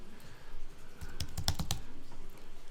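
Keys clatter on a computer keyboard in a short flurry of distinct taps, several quick strokes clustered in the middle over a steady low room hum, close and moderately loud with no talking.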